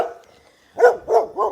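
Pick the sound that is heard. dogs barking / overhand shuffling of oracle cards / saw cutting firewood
dogs barking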